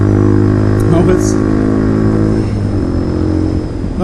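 Bashan Motomax 250 motorcycle climbing uphill, its engine droning loud and close with a steady harmonic whine, easing off slightly toward the end while a rider speaks over it.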